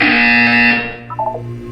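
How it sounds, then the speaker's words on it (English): A loud, harsh electronic buzzer in the video game Portal 2 blares for under a second, then cuts off. A brief warbling chime and a low hum follow. "You will hear a buzzer. When you hear the buzzer, look up at the ceiling."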